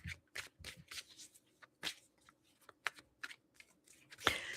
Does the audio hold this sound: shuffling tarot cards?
yes